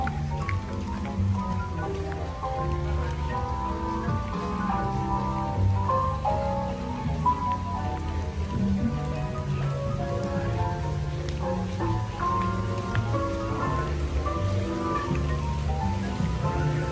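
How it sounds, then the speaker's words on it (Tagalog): Heavy rain pours steadily at a hotel in Hong Kong, a dense continuous patter on surfaces, with faint indistinct voices in the background. "Lakas ng ulan."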